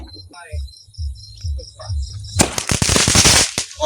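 Firecrackers set off in a rural village, near a pond: after a stretch of chirping insects and quiet voices, a loud burst of rapid crackling explosions erupts and continues to the end.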